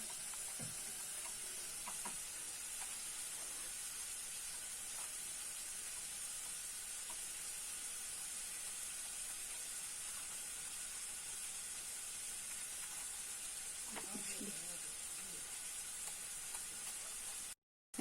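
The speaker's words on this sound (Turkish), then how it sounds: "Bir taraftan da soğanımız kavruluyor." A steady, soft sizzle of onions frying in a pan fills the whole stretch, with a few faint clinks and knocks of utensils.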